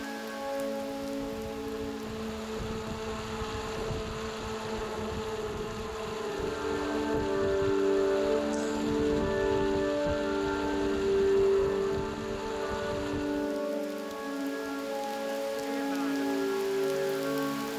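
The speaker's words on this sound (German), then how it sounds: "Der Regen wird sogar noch deutlich heftiger." Heavy, steady rain pours down during a multi-day Ironman marathon challenge, a dense continuous patter with a faint low engine or vehicle hum running beneath it and no voices.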